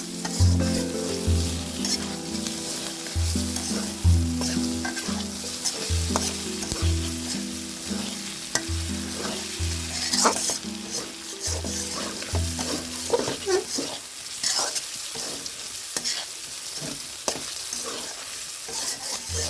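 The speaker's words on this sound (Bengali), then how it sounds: "আরও 2-3 মিনিট ভাজতে থাকবো, ভেজে ভেজে কষে নেব" Singi fish with sliced onions and spices sizzles steadily in a hot pan for a dopiaza, with loud rhythmic scraping of a spatula stirring through the mix and no talk.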